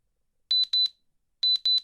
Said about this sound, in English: So we want the alarm to go off at 10:57